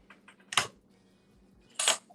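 A blade slicing through a polymer clay cane, heard as two short, crisp cuts spaced over a second apart, close and fairly quiet, with a few faint taps between them.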